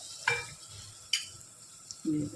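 Mango pieces and onion cook in oil for a mango mutton curry, a faint sizzle broken by two sharp utensil clinks as they are stirred, followed by a low rumble at the end.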